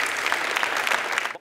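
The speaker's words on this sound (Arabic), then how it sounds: "عطوني تصفيق على فريد." A studio audience at a TV game show claps for a contestant, a dense burst of applause that stops abruptly.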